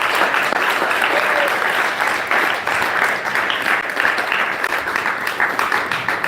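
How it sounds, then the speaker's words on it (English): Audience applause at an entrepreneurial summit: a dense, steady wash of many hands clapping together, loud and sustained from start to finish with no pauses. "Round of applause, please"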